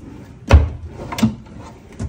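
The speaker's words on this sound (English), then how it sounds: "Open up these closets." Closet doors in a Radisson Blu Canal View hotel suite in Dubai are pulled open with a sharp wooden knock, then a lighter bump and a final soft thud, close by in a quiet room.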